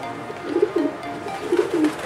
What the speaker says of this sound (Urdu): یہ میرے پروازی کبوتر ہیں